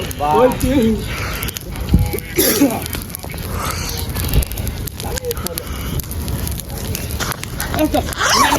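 A fire burns at a friends' birthday celebration outdoors, a steady crackling, roaring rush mixed with wind noise on the microphone while people talk nearby.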